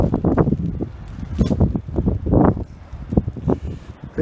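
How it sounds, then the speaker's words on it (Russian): Strong gusts of wind sweep through an outdoor spot with modern architecture, buffeting the microphone in uneven, rumbling low bursts that rise and fall throughout. "Но ветер такой, что, наверное, придется музыкой заглушать."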